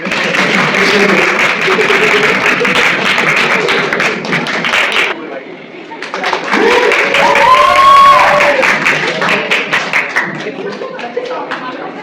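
Audience applause and clapping for the winning group at a medical quiz event, a dense crowd roar that dips briefly midway with cheering and voices mixed in before building again.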